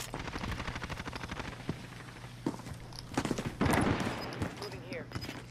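Rapid bursts of video game gunfire crackle in quick volleys, some close and sharp, others more distant, mixed with footsteps and a player's voice talking over the action.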